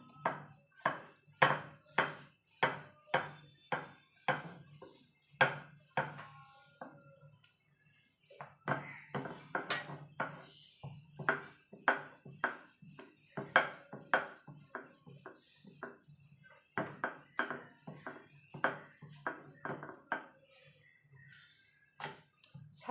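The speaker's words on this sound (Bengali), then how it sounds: "অল্প করে ময়দা দিয়ে আমি বেলবো। হালকা হাতে কিন্তু বেলতে হবে" A wooden rolling pin rolls out stuffed aloo paratha dough dusted with flour, giving a series of quick knocking, rubbing strokes in rhythmic bursts with brief pauses, close and fairly quiet.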